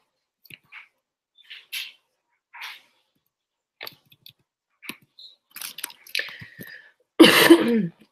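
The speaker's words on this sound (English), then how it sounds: "Still got a bit of that cough." Scattered faint clicks and small mouth sounds, then one loud, close cough near the end.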